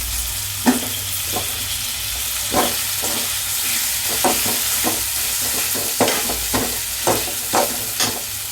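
Tomatoes and green chilies frying in a pan for a stingray fish curry, a steady sizzle broken by repeated scraping stirs of a spoon at irregular intervals, close and without talk.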